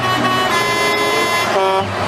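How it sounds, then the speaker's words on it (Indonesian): A toy garbage truck sounds its horn, a loud, sustained electronic tooting tone that holds for about two seconds and shifts pitch partway through. "Wow, truk sampah teman-teman."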